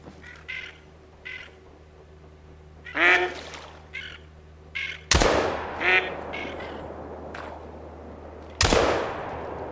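A shotgun blasts twice at high-flying mallard ducks during a duck hunt, loud sharp reports with ringing tails, preceded by quacking and honking calls from decoy-style duck calls or birds.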